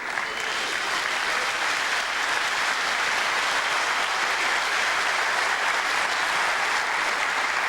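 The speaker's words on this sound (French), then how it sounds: "on applaudit la diva de Puente Tremble, Nadine Turbino." A large theatre audience at a comedy festival gala applauds continuously, a dense, even wash of clapping that holds at a steady level throughout with no voices over it.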